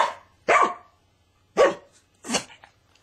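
A five-year-old pet dog barks three times in answer to simple arithmetic questions, each bark loud, close and separated by about a second of quiet.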